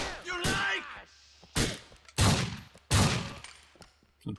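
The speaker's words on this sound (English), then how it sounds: "Some pretty bad shooting there" Gunfire in the video game GTA IV, a few loud separate bursts and thuds spread across a few seconds, with a voice heard near the start.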